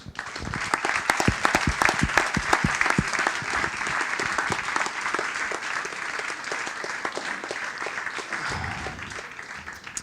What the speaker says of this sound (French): je voudrais vraiment une standing ovation pour ces personnels parce qu'ils le méritent